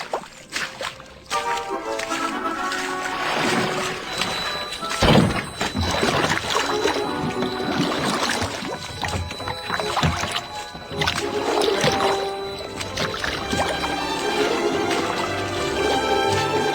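Water splashes and sloshes repeatedly over orchestral music from Holst's The Planets, with hollow paddling thunks and splatters coming in irregular bursts, loud and close against the sustained strings.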